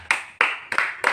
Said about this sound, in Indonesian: Tepuk tangan dulu untuk Indah.